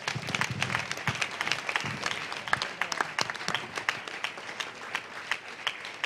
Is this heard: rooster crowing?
no